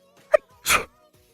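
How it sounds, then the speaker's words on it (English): A single human sneeze: a sharp intake breath followed by a loud, explosive burst, then quiet. "Oh, I'm about to sneeze."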